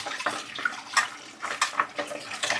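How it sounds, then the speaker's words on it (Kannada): Okra being washed under running water, a close splashing tap stream with irregular gurgles and little splats as the pods are rubbed and turned, no voices. "ಧುಳು ಧುಳು ಜಲಧಾರೆಯಲ್ಲಿ ಬೆಂಡೆಕಾಯಿ ತೊಳಿತಾವ್ರೆ."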